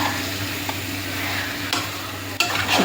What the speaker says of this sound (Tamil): சிக்கனை போட்டு நல்லா பெரட்டி விடணும்